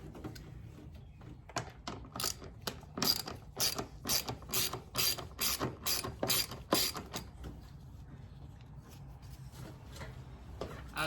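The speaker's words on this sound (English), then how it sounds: "you got 4 bolts you want to take off of this air box right here" A ratchet wrench clicks in quick, uneven bursts while 8 mm bolts are backed off the air box on a 2015 Chevy Silverado 1500 LT. The sound is close and dry, with short pauses between runs of clicks and no talking.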